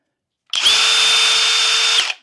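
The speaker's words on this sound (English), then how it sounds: "Okay, now everybody knows about the settings on the drill." A Flex cordless drill spins at speed setting 2, a single steady high-pitched whine starting abruptly, holding even for about a second and a half, then winding down, loud and close with nothing else heard.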